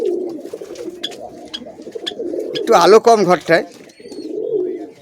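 Pigeons coo in a dim loft of cages and nest boxes where pairs are kept, a rolling burst of cooing rising midway, with someone talking throughout.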